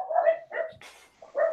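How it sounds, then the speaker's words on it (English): A dog barks several times in short, sharp bursts separated by brief pauses, fairly close and clear against a quiet background. "someone's out there barking"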